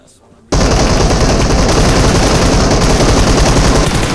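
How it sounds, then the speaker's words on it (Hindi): Sustained automatic rifle fire from an M762 in PUBG Mobile, bursting in loud and close after a brief quiet start and continuing as a dense, unbroken volley to the end. "तभी पीछे से मुझे M762 की आवाज़ आती है।"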